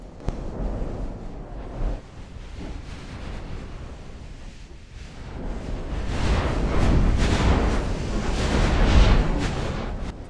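Naval artillery fire in Ultimate Admiral Dreadnoughts, a 1910 German battleship campaign with 10-inch guns, heard as rolling booms and rumbling blasts that swell louder toward the end, with a few heavy thuds.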